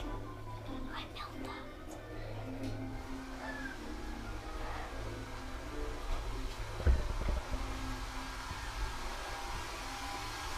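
A hair dryer runs with a steady, droning whir the whole way through, with a low hum and faint murmuring voices underneath.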